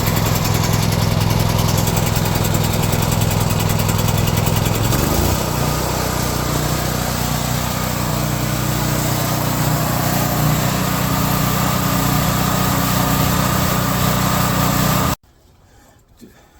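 A portable generator engine runs just after starting, a loud, steady, rattling small-engine drone close by that holds for about fifteen seconds and then cuts off abruptly.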